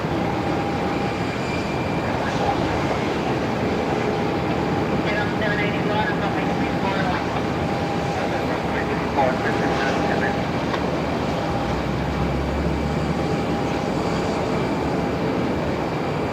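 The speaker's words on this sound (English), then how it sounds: "Runway 34, clear for takeoff." A jet airliner roars steadily as it takes off from runway 34 at Melbourne Airport, a broad continuous rumble that holds throughout, with voices faintly present.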